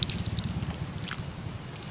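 Liquid fertilizer pours and trickles steadily onto potted chili pepper plants in polybags, with scattered drips and splashes, close and fairly soft, no talking.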